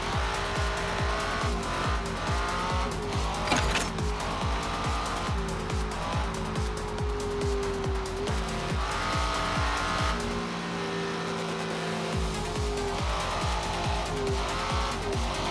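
A car drives in the video game Dragonhold, its engine droning steadily with a rhythmic pulse and high tire squeal running across the whole stretch, loud and close, with no pause.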